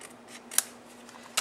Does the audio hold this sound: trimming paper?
yes